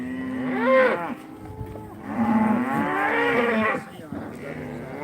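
Cattle moo loudly and repeatedly at close range as a cow and two calves, being checked for pinkeye, are herded into a pen, with long drawn-out calls overlapping.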